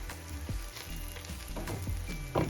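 Onions seasoned with salt sizzle steadily in a hot pan, with a dense crackling hiss dotted by small pops and stirring scrapes, close and continuous with no voices.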